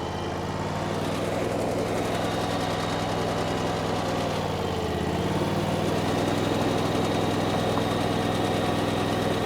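A Chinese skid steer's engine runs in a loud, steady drone nearby, dipping briefly in pitch midway as load changes before settling back into a constant rumble.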